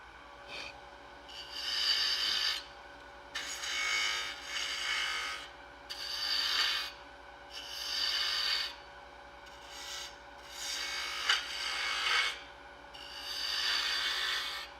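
A hand gouge carves an end grain wooden box in long, steady rasping strokes, about seven sustained cuts with brief gaps, close and fairly loud with no voices.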